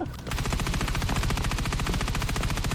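Continuous rapid-fire gunfire from the Delta Force Mobile shooter, a steady, loud stream of closely spaced shots running almost the whole time, uninterrupted by voices.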